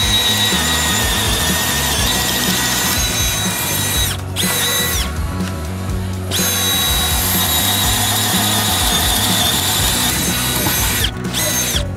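An M12 hammer drill drives a 7/8 inch chip auger at its lowest speed with a steady, loud whine and grind, broken by two brief pauses where the bit stops.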